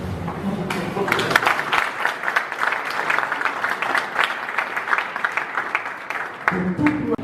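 An audience at a youth and citizens forum applauds, with dense, loud clapping from a crowd that fills most of the clip, while a voice speaks briefly at the start and again at the end.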